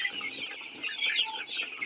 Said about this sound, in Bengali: এই দেখেন আমার মুরগি